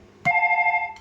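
A sharp click followed by a single steady electronic telephone ring tone from a toy, clear and close, cutting off after under a second.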